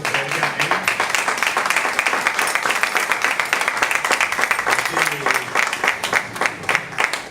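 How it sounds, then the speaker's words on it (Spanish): A church congregation breaks into applause, many hands clapping in a dense, crackling wash that holds steady and fairly loud for several seconds, with faint voices mixed in. "Un aplauso para ellos."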